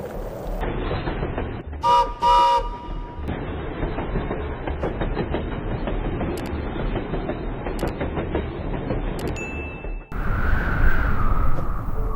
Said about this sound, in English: The small train slowly passes vineyards,